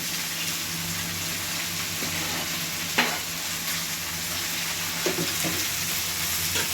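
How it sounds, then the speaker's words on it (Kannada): Coconut frying in a pan for a ridge gourd curry, a steady dense sizzle with an occasional utensil tap, no voices. "ಸ್ವಲ್ಪ ಫ್ರೈ ಮಾಡ್ಕೊಳ್ಳೋಣ."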